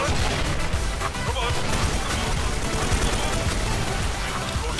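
A grenade goes off in the Special Force 2 shooter, a dense, loud crash amid constant battle noise and scattered gunfire, with no let-up across the whole moment while voices talk over the fight.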